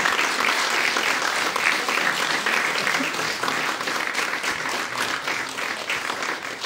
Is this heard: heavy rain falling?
no